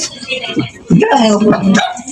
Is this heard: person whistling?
no